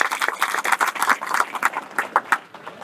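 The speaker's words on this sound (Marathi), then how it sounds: "एकदा हनुमंतरासाठी टाळ्या व्हायला पाहिजे" An audience claps for Hanuman at a Hanuman idol consecration ceremony and satsang in Sapte, Trimbakeshwar: close, uneven rhythmic clapping from many hands that holds steady for the whole stretch.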